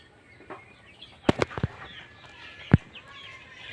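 Tiger chickens cluck at a coop as a door is opened, a few sharp close calls spread over a quiet outdoor background.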